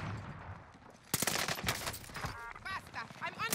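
Rapid gunfire in the video game Warzone, a burst of loud cracking shots after a quiet start, mixed with a voice talking over it.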